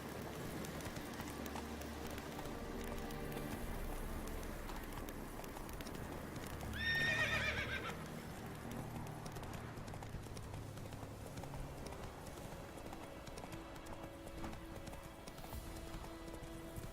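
Horse hooves clip-clop steadily over a game soundscape in The Witcher 3: Wild Hunt, with a short whinny rising briefly in the middle before the plodding footfalls carry on.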